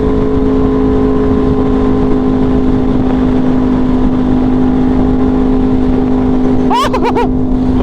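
An Aprilia Tuono V4 motorcycle engine pulls steadily at speed with a loud sustained drone and wind rush. A brief sharp rise in pitch comes near the end.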